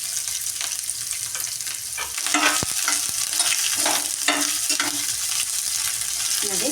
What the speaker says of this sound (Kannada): ಇವಾಗ ಕರಿಬೇವು ಸೊಪ್ಪು, ಈರುಳ್ಳಿ ಹಾಕಿಬಿಟ್ಟು ಸ್ವಲ್ಪ ಫ್ರೈ ಮಾಡ್ಕೊಳ್ಳಿ